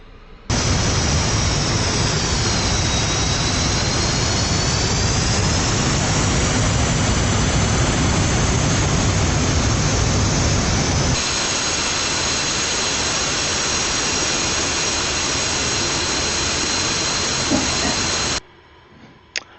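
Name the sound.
jet engine spooling for takeoff in DCS flight simulator video game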